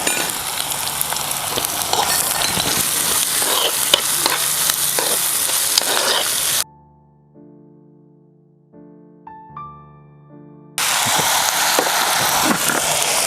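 A generous handful of chopped shallots sautés in oil for Kerala beef ularthiyathu, a loud, close sizzle with spoon stirring that pauses for a stretch of soft tonal music, then returns.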